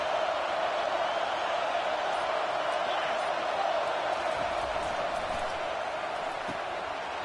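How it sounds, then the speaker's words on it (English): A college football stadium crowd at USC roars in a steady, dense wall of noise, loud and continuous throughout with no clear breaks. "Listen to this crowd just shaking the girders of this place trying to help their defense."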